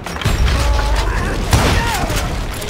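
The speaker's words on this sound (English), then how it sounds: "And about now they'll probably start shooting at me again." Enemy gunfire in the Western shooter Call of Juarez Gunslinger: dense, continuous booming shots and thuds from several directions, with a couple of heavier blasts standing out from the steady barrage.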